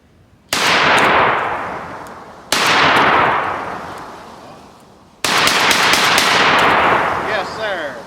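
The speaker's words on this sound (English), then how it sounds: "we're gonna start digging holes with 12 gauge shotguns on the range, just shooting the same thing over and over again" Three loud, close 12 gauge shotgun blasts from a Mossberg 940 JM Pro on a shooting range, each sharp report followed by a long decaying echo, the last shot quickly joined by more overlapping reports.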